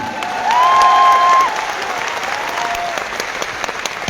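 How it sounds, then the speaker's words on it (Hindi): A crowd at a live event applauds warmly, a thick continuous wash of clapping that holds throughout, with a brief sustained tone rising over it early on. "और इन लोगों की तालियों से इस बात का एहसास होता है कि आपके लिए ये आत्मा से दिल से ताली मार रहे हैं"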